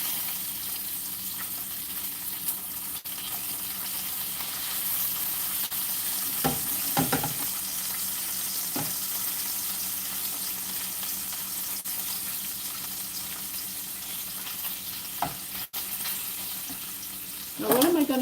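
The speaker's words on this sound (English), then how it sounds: "I'm cooking bacon" Bacon fries in a pan with a continuous, close crackling sizzle that holds steady throughout, with a few clinks of stirring and a short burst of voice near the end.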